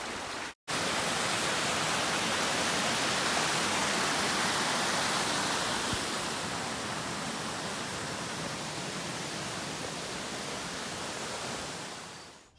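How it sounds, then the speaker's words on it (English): A mountain brook rushes along a trail in the White Mountains of New Hampshire, a loud, continuous broadband wash of flowing water heard up close, briefly cut near the start and fading slightly at the end. "we have a little brook crossing and trying not to fall in"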